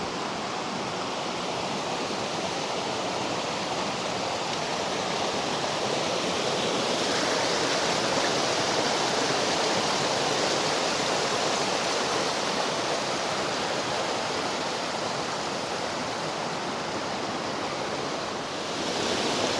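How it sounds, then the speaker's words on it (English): A small Alpine waterfall streaming down near Gosausee lake in Austria gives a steady, close, hissing rush of falling water that stays even throughout, with no voices over it. "there's a lovely little waterfall"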